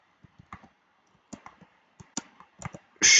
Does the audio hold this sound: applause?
no